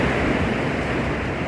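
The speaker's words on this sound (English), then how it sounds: "This beautiful waterfall is called Laksforsen" Laksforsen, a waterfall on a salmon river in Norway, roars as a steady, loud broadband rush of falling water, constant and dense throughout with no voices.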